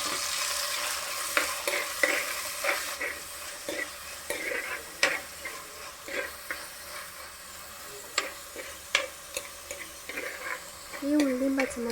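Crushed green chilli, onion, ginger and garlic fry in oil for a Kerala toddy-shop curry, a steady close sizzle broken by frequent sharp scrapes and clinks of stirring in the pan.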